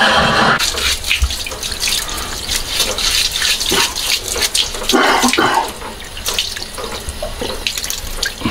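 Tap water running steadily into a sink while abalone and pork are rinsed, a loud close splashing stream with clattering and sloshing as the food is handled, no talking.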